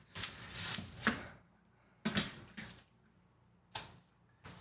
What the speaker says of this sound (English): I need to chop up an onion.